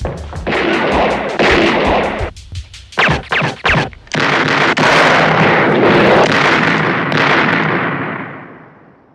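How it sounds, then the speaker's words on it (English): A loud, dense shootout between police and a criminal gang in a John Carpenter movie, with volleys of gunshots. Sustained bursts are broken by a few sharp separate shots before the roar slowly fades. "And then you have the opposite side where the police start shooting out."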